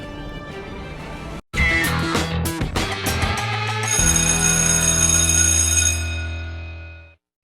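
Doorbell ringing as a show opener, a sharp electronic chime that cuts in after a brief silence, then a loud sustained ringing tone that fades out over several seconds.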